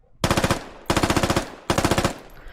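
An MA-37 assault rifle fires in the Halo mod for Squad: three loud, close bursts of about five rapid shots each, separated by short pauses.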